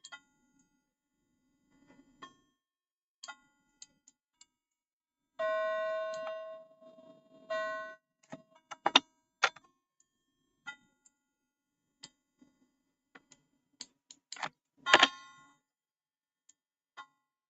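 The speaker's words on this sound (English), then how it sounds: "And that is my clock." A wall clock in a quiet room gives sharp ticks and a sustained ringing chime, then scattered clanks and a loud metallic strike, all close and without voices.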